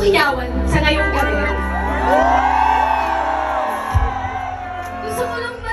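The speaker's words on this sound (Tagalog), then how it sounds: "Kaya, isa pang hiyawan sa ngayong gabi." A concert crowd at a live performance screams, whoops and shouts loudly and continuously, with a voice talking over the cheering throughout.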